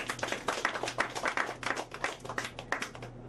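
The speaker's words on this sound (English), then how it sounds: "Give yourselves a round of applause." An audience at a hip-hop lecture event claps and applauds, a dense, steady burst of many hands clapping at moderate distance with no speech over it.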